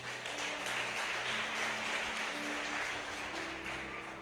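A church congregation applauds in a dense, steady wash of clapping that holds at a moderate level for several seconds without a break.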